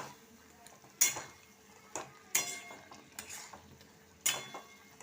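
A metal spatula stirs soya chunks in bubbling gravy in a pan, giving four or five sharp scraping clanks at irregular intervals over a faint simmer, close and quiet between strokes.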